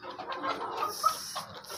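Young pullets and a few roosters clucking inside a poultry shed, a close, steady chatter of soft overlapping clucks with no speech.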